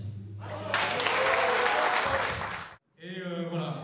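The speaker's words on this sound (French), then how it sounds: "applaudissez-vous" An audience claps loudly and steadily for about two seconds at a Business Class SLR launch event, then stops abruptly before a voice begins speaking.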